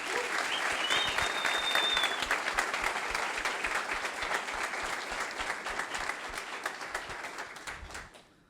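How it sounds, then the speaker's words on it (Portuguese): An audience at a company meeting breaks into sustained applause, dense clapping at steady loudness that gradually thins and fades out, with a short high electronic tone early on. "Uma salva de palmas para todos nós."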